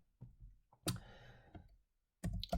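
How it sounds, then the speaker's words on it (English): A handful of quiet, separate clicks and short rattling bursts from a computer keyboard, with silent pauses between groups of keystrokes, heard close in a still room. "So I'm just going to type in here"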